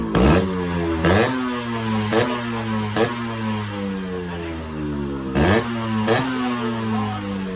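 A Yamaha RX-Z two-stroke motorcycle with a newly fitted silencer revs repeatedly. Sharp throttle blips rise and fall in pitch over a steady idle, loud and close, with no talking.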